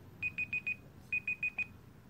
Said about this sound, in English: the timer will interrupt Google Assistant